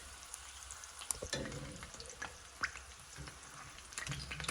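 Chicken flautas frying in hot oil with a busy, crackling sizzle and scattered pops and spits, close and steady throughout, with no voices.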